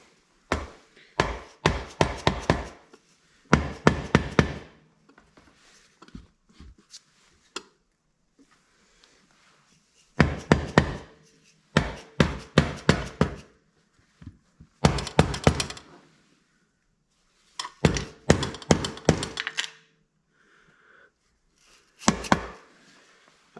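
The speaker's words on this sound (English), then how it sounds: "I hear parts in there rattling around." Rubber mallet tapping on a part of a Cub Cadet RZT17 riding mower during disassembly, in several bursts of rapid knocks separated by pauses, with faint rattling of loose parts inside, close and moderately loud, no talking.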